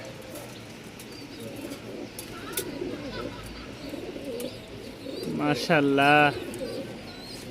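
Black Diamond Beauty pigeons at the Mirpur pigeon market give short coos and flutters, mostly faint under a man's speech and market bustle, with a louder burst of calls near the end.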